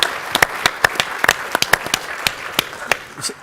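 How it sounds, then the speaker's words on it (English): Scattered audience clapping at a fireside chat during an engineering institution's presidential address, a sparse, uneven patter of individual sharp claps, fairly close and moderately loud, with no voices over it. "let's have a round of applause"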